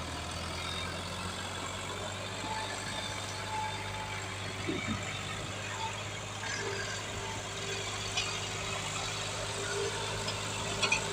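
A Massey Ferguson 260 tractor strains under full load in a pulling contest against a 385, its steady diesel drone rumbling from moderate distance with a few faint knocks and thumps.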